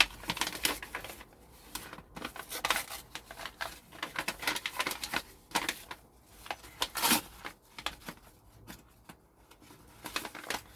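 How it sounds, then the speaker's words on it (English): A seed packet of French dwarf beans is torn and crinkled open, giving close, irregular bursts of rustling, ripping and crackling paper with short gaps between handlings. "Should have opened up the packaging first, shouldn't I?"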